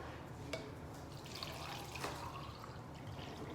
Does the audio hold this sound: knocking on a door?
no